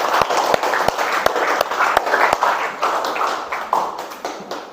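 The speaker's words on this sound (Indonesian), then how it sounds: "Tepuk tangan untuk kelas 8B." Students in a classroom clapping for their class 8B, a lively burst of many hands with sharp individual claps standing out early, then gradually thinning and fading, with no talk.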